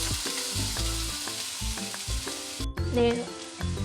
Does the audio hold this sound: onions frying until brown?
yes